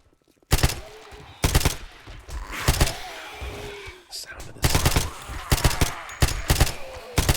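Upgraded machine gun firing in the video game 7 Days to Die, loud rapid bursts of gunfire separated by short pauses, with a few heavier single shots between the volleys.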